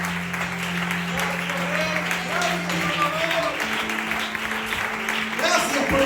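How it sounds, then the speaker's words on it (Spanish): Congregation at a church service clapping together, a steady moderate wash of applause lasting several seconds with a low hum and faint voices underneath. "bríndale un fuerte aplauso para Él"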